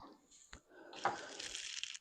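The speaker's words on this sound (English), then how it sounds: "Put the top of the tank in and give it a flush." A newly installed toilet with a wax ring is flushed, giving a sudden burst of rushing water that settles into a steady hiss as the tank refills, close and fairly quiet with no talk.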